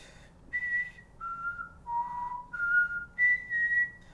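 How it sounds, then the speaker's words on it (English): A person whistles a short, clear tune, stepping through about six distinct sustained notes that fall and then rise again, close and solo in a quiet room. "If you whistle, you have to change your tongue position to change notes."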